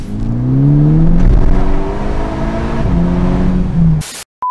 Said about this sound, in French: on est sur une voiture qui va patiner. Elle patine jusqu'en 3e.